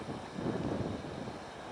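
Steady low rumbling wind buffets the microphone outdoors in a harsh Canadian winter, swelling into a stronger gust midway before settling back to a constant roar.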